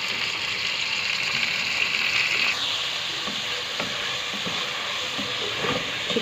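Chicken sizzles steadily in a pan with ginger garlic paste and fried onions, a continuous close frying hiss with a few faint stirring knocks and no talk.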